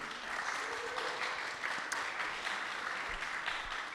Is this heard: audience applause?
yes